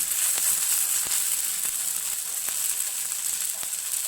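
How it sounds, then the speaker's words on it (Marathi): Sabudana thalipeeth roasting in a little oil on a pan makes a steady close hiss and sizzle, with faint regular ticks running through it. "आपण दुसरं पण थालीपीठ भाजून घेऊया."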